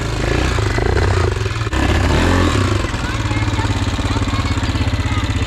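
A Yamaha Grizzly 450 ATV engine with a failed wet clutch revs loudly and steadily close by, its droning tone rising and falling with some clattering, no voices present.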